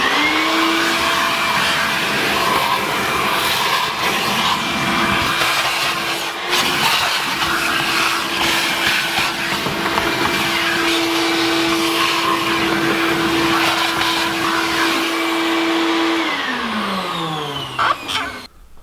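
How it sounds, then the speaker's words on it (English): A vacuum cleaner cleans a mouse-infested car interior, running continuously at close range with a steady whine and rushing airflow, pitch shifting briefly before the motor winds down at the end. "get a vacuum out, start cleaning"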